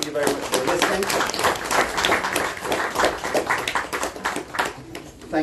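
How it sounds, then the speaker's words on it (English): An audience at a Sunday Feast class claps together, a steady stream of overlapping hand claps lasting several seconds at moderate loudness, with a voice talking over it. "Thank you very much for clapping."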